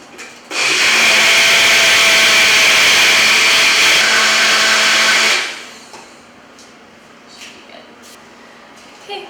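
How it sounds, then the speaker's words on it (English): A blender whirs loudly for about five seconds blending a protein shake, a steady high-pitched motor roar that then winds down to quiet with a few faint clinks. "we're going to walk back to our blender and blend this up to make our shake"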